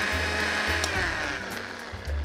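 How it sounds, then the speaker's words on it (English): A kitchen blender purées tomatoes with a steady, fairly quiet whirring drone that holds throughout, with no voices. "It's a really simple way of pureeing your tomatoes. And whisk it away."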